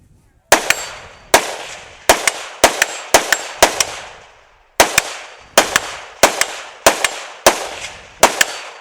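Rifle shots ring out at a shooting competition, a dozen sharp loud cracks in an uneven rapid string, several followed by the bright ping of bullets striking steel plates, with short pauses between groups.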